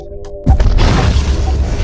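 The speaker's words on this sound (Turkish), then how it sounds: "Evet dünya bomba geliyor arkadaşlar." A sudden loud bomb blast destroying the planet in the game Solar Smash after a quiet beeping lead-in, followed by a heavy rumbling roar that lingers.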